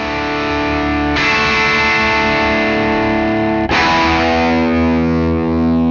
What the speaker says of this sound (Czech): Tak jo, to byl Master Drive.